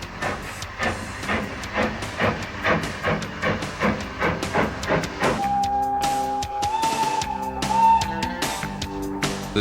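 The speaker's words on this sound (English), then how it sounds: "Pulling out of the Haworth station, our train will continue to climb gently." Steam train pulling out of Haworth station on a gentle climb toward Oxenhope, with a steady run of rhythmic chuffs and hiss in the first half, then a sustained whistle tone and wheel and rail clatter, close and fairly loud.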